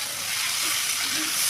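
Chopped raw onion hitting hot oil in a pan, a steady loud sizzle and hiss that holds evenly for a brief moment.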